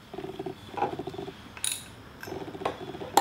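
A ratchet wrench clicks in short bursts while a 10 mm side bolt is tightened on a Honda Shadow motorcycle fork, close and fairly loud, with brief metallic knocks between runs.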